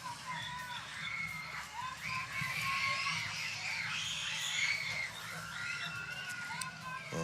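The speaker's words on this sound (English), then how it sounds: "so you can hear all the screaming in the background." Fans at a track and field championship meet scream and cheer in a lively, distant crowd roar, with high voices rising and falling in waves over a faint background murmur.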